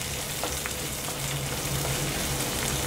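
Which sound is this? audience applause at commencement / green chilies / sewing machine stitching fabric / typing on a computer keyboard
green chilies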